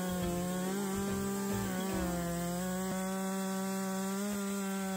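A Stihl MS 462 C-M chainsaw cuts through wood, its engine howling loud and close in a sustained buzz whose pitch dips and recovers as the chain bites.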